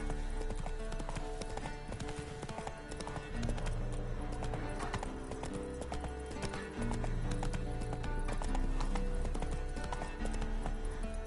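Roach, Geralt's horse in The Witcher 3, gallops with steady rapid hoofbeats and a brief whinny over a layered game music and ambience bed, sustained loud for the whole stretch.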